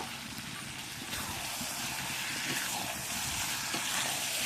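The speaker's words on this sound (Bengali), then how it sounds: "এখন আলুটা দিয়ে দেবো।" Potatoes hit a pan of sizzling mutton being cooked down before a pressure cooker, giving a loud, steady frying hiss with faint stirring scrapes throughout.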